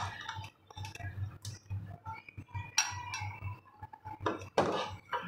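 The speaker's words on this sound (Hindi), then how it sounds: "अब मैं डिश आउट करने लगी इस पर" A spoon clinks and scrapes against a pot and serving dish while chicken kofta gravy is dished out, giving a string of close, irregular metallic taps and chinks with brief clattering bursts and no speech.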